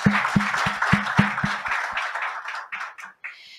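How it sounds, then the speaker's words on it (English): A conference audience at a community health launch event claps, a burst of dense applause with strong hand-clap hits that thins out and fades over a few seconds. "Can we give a round of applause?"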